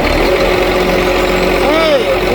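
A rough-running diesel engine on John Deere heavy equipment drones loud and steady up close, with a brief rising and falling whine near the end, and talk over it.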